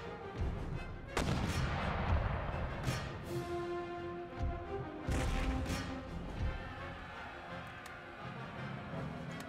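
Musket volleys and artillery booms from the Empire Total War battlefield roll out in heavy, overlapping bursts, some close and sharp, others distant rumbles, with no voices over them.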